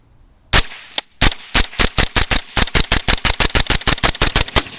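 A .22 rifle fitted with a B&T Tiger or Stealth Additive Works suppressor fires rapidly and close. Two quick isolated shots come first, then a fast, even string of about twenty sharp, clipped cracks follows without pause.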